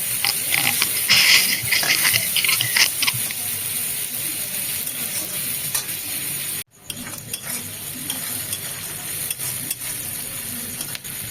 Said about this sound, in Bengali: পেঁয়াজটাকে বেশ লাল লাল করে ভেজে নিতে হবে